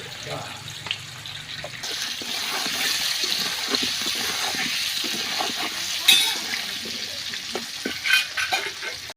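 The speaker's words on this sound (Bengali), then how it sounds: "দেখুন এই আলুগুলো তেলের মধ্যে ছেড়ে দেওয়া হচ্ছে, ভালো করে আলুগুলোকে ভেজে নেওয়া হবে নুন দিয়ে" Potato pieces frying in hot oil with salt and turmeric, a dense, close sizzle that swells as they go in and holds steady, with a few stirring knocks and a voice talking over it.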